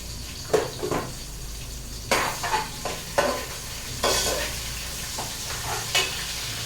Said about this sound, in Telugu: కొంచెం అల్లం వెల్లుల్లి పేస్ట్ వేసుకున్నానండి.